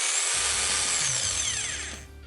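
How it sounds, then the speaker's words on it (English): A rotary hammer drill runs at full speed with a loud, steady high whine, then spins down as the trigger is released. "A rotary hammer is much alike with a standard power drill. Pull the trigger and it runs."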